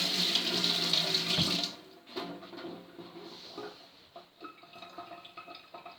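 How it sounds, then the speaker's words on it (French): Water runs steadily from a kitchen tap for hands being rinsed, a loud hiss that stops abruptly partway through, leaving small drips, clinks and quieter handling noises. "je vais d'abord me rincer les mains"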